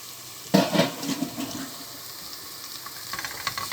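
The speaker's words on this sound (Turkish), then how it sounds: "Domates salçasını da iyice kokusu çıkıncaya kadar kavuralım. 2 dişte sarımsağımız var rendelenmiş. Onu da ekliyoruz." Tomato paste and grated garlic frying in a pan for lentil soup, a sudden sizzling burst as ingredients hit the hot pan, then a quieter steady frying hiss with a few stirring scrapes near the end.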